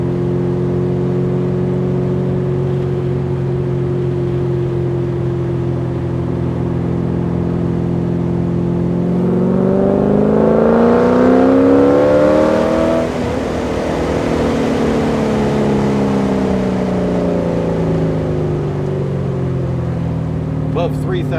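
A Porsche 944 fitted with an LS V8 engine drives along with a steady low engine drone, then revs up hard in a loud rising sweep before settling back to a cruise, with a voice talking over it.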